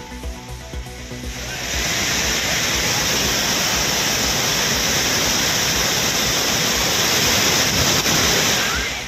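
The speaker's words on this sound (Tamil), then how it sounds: "குற்றாலம் அருவிகளில் காட்டாற்று வெள்ளம்." Floodwater roars over the Courtallam waterfalls in Tamil Nadu during a flash flood, a loud, steady broadband rush of cascading water that swells after the first second and holds unbroken throughout.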